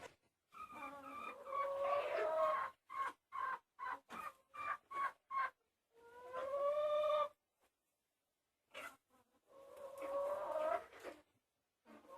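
Farm chickens cluck and squawk up close in several bursts, with rising, drawn-out calls separated by brief quiet gaps, during a morning feeding round among poultry.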